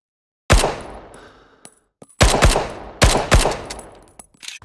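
.45 pistol gunshots in the video game Rising Storm Vietnam: a single loud shot with a reverberant tail, then a quick cluster of three or four shots, then another pair, all close and punchy with no talking.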